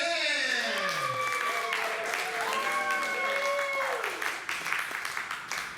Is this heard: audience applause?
yes